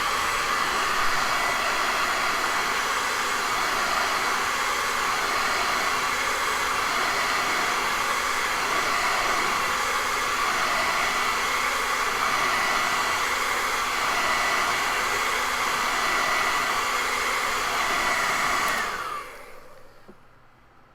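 A hair dryer blows steadily and loudly at close range to dry thick, wet white paint on a fall landscape painting of rocks and trees, then switches off near the end.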